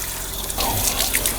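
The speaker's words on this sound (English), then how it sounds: "Rinse down my sink real quick." Kitchen tap water running to rinse down a sink after handling pork, a close, steady hiss of flowing water that grows a little louder partway through the short burst.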